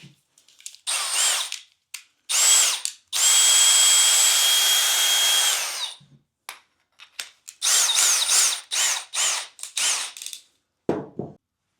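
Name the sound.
power drill running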